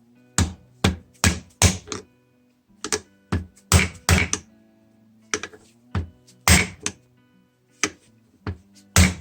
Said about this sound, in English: And place the socket like so, tap it.